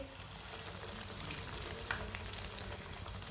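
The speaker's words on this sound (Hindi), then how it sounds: "ऑयल हमारा अच्छी तरह गर्म हो चुका है। अब एक एक पीस डाल लेंगे," Snack pieces frying in hot oil, a steady, dense sizzle that holds evenly throughout with a few brief pops near the end, no voices.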